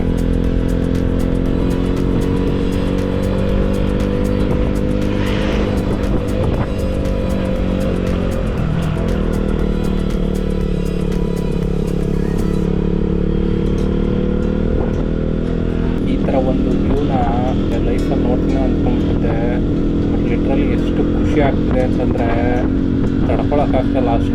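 Motorcycle engine climbing the high mountain pass from Leh to Khardung La in low gear, a loud, continuous labouring drone with steady harmonics, under someone talking throughout.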